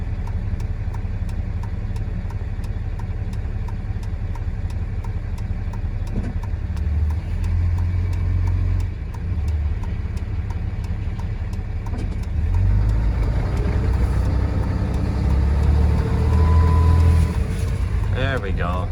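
A John Deere 60 tractor engine runs steadily and loud while pulling a stuck header cart truck on a driveway outdoors, a continuous low rumble that swells in load from the midpoint onward, with no talk over it.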